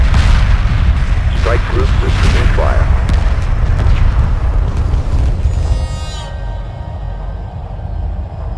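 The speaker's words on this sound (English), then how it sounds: "Ion frigate under attack. Strike group receiving fire." Continuous heavy weapons fire and booming blasts in a space battle in the game Homeworld 2 Remastered, loud and dense, with rapid energy shots crackling over a deep rumble that thins out near the end, under intermittent voices.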